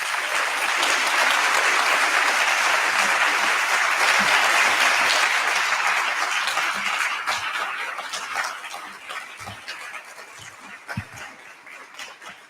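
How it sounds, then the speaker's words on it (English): A symposium audience applauds a keynote speaker on environmental justice, a full, dense wave of clapping that holds strong for several seconds, then thins out into scattered, fading claps and a few isolated hand strikes. "More applause, please."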